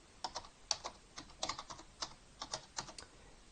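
Quick, light clicking of keys as a command is entered on a computer keyboard, an uneven run of soft taps that is close and quiet, with no voice over it.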